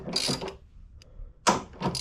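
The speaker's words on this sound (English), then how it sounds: "Now we can take our 19mm socket and break that top shock bolt free." A 19mm socket on a ratchet breaks a motorcycle's top rear shock bolt free: two bursts of rapid clicking pawl strokes, close and clear, separated by a quiet pause with no talking.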